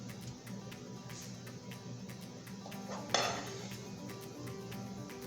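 Spinach scrambled eggs being moved onto a plate with utensils, soft scraping and light clinks of metal on dishware, with one sharper clatter midway, all faint against a low kitchen background hum with no talking.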